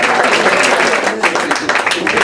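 A comedy club crowd at The Stand NYC applauds continuously, thick and fairly loud clapping with slight surges in intensity, close and filling the room throughout.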